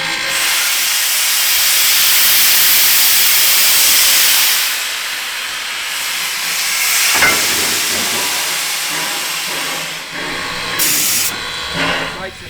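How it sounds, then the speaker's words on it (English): A steam locomotive on the Blue Mountains zigzag railway near Sydney, Australia, gives off a loud, sustained, close hiss of escaping steam. A heavy thud lands midway, and the hiss wavers and thins toward the end. "I'm lucky to be able to ride on the steam locomotive here with them"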